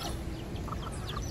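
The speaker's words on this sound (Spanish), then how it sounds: "hasta las gallinas están comiendo, mira." Chickens, with a rooster nearby, pecking at food tossed to them outdoors in Manatí, Puerto Rico; faint scattered clucks and short calls rise over low background noise.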